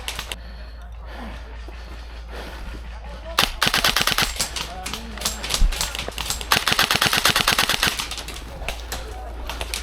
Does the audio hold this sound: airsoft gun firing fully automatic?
yes